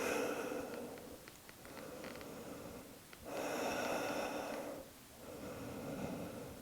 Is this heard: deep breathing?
yes